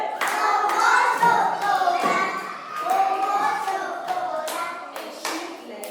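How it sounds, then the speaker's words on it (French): Kindergarten children in a classroom clap their hands in a sustained burst of irregular applause, fairly close and steady throughout, with faint voices beneath. "Vous applaudissez pour Hollande."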